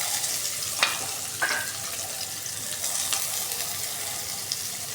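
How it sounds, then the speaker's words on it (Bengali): Onions fry in a pan with a soft, constant sizzle, broken now and then by a light scrape or clink of stirring; quiet and close, with no talk. "এখন আমি পেঁয়াজগুলো ভেজে নিব"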